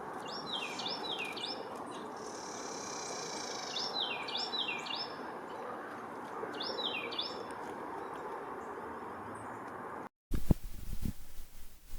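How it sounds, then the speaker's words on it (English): A Carolina wren sings in a snowy forest, its repeated bright, rolling phrases coming in several bursts at moderate distance over steady low background noise, ending in a short break and a louder rustle. "Listen to the Carolina wren singing in the background."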